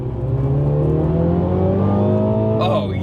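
A MINI Clubman JCW in sport mode accelerates hard in second gear, heard from inside the cabin: a loud, steady engine note climbs in pitch for about two and a half seconds before a brief shift at the end.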